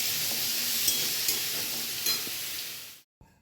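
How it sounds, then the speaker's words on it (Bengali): Black cumin and green chilli are tempered in hot oil, giving a loud, close, even sizzle with a few crackles for about three seconds, then it stops suddenly, followed by a faint knock. "কালো জিরা কাঁচা লঙ্কা ফোড়ন দিয়ে হচ্ছে।"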